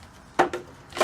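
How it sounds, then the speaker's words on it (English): Three short scraping cuts into a plant pot made from recycled material, spaced over about a second, close and fairly loud against a quiet background. "now I'm going to cut around this plant, this pot."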